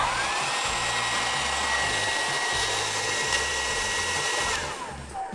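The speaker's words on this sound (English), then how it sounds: "Let's try the hairdryer." A high-wattage hair dryer running steadily inside a van, a loud, constant whooshing blower hum with a high whine that drops slightly as it winds down near the end.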